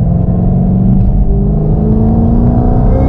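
Ford GT500 on Goodyear Eagle F1 tires accelerating hard with the tires not hooking: a loud, close, sustained engine roar climbing steadily in pitch, alone without voices.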